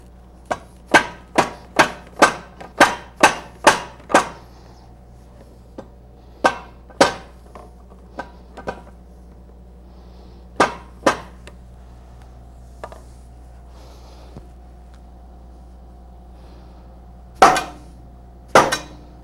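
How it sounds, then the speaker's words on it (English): Sharp hammer taps on a motorcycle drive train cover right over the dowel pins, struck in a quick run of about eight, then scattered single and paired blows with pauses, close and loud with a low steady hum underneath. "I'm going to tap right where the dowel pins are, but I'm also going to hold on to this cover."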